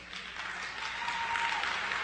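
Audience applause during a French-language talk, a steady patter of clapping from a crowd, moderately quiet and continuous throughout.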